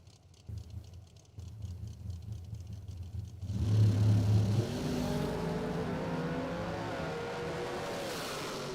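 Roadster drag racing car at a drag strip, a low engine rumble building to a loud launch roar around the midpoint, then a sustained, gradually fading high-revving drone as it pulls away.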